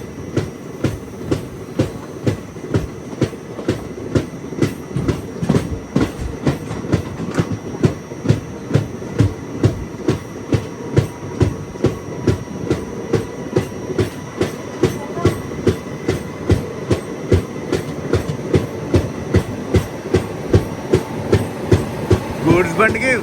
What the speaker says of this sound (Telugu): గూడ్స్ బండి ఇది.